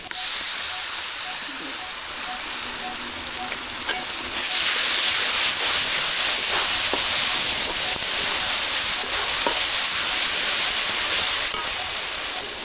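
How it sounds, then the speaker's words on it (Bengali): Garlic paste hits hot oil with fried onions in a pan, giving a steady, close sizzle that grows louder and brighter midway and keeps hissing, with faint stirring scrapes throughout. "পেঁয়াজ ভাজা হয়ে গেছে, এবার দিয়ে দেবো রসুন বাটা।"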